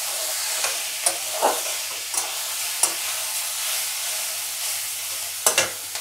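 Masala being sautéed in a pan for appe, a soft continuous sizzle with intermittent scraping clicks of a spoon stirring, close and fairly quiet.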